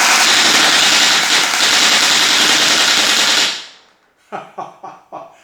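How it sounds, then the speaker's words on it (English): A firearm fitted with a home-made forced reset trigger fires a long, loud, rapid burst of shots for about three seconds, then, after a brief silence, several sharp single shots follow close up. "Now look what happens when I pull the second trigger."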